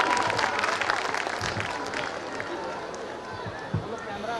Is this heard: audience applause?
yes